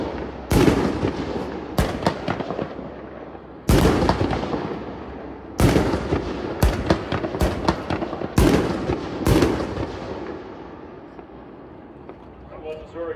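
Azurix Chaos 1.75 inch consumer firework shells fired at an outdoor demo, with about five loud, sharp booms, each followed by crackling bursts and decaying echoes. Faint voices can be heard in the background.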